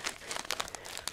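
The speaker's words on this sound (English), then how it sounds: "rustling of packets and stuff for some ASMR." Plastic packets holding PC parts for an Intel test system build crinkle and rustle in quick, close bursts of crumpling for about a second, with no talk.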